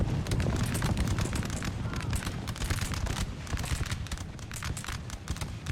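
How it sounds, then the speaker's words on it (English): Musket volleys crackle from a Napoleonic battle in Napoleon Total War, dense overlapping shots rippling continuously in sharp bursts, near and loud, over a rumbling background. "Meanwhile, I'm trying to fire on these guys since they're standing before me."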